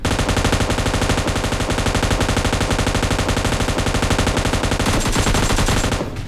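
Loud, relentless rapid-fire gunfire in PUBG Lite rattles on without pause, a dense automatic burst close up, tapering slightly at the very end.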